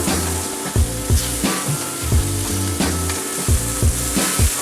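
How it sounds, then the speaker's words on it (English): Filet mignon steaks sizzle steadily in a hot pan as they are turned, a dense continuous frying hiss heard under prominent background music with a repeating bass line. "So now we're going to turn our steaks again."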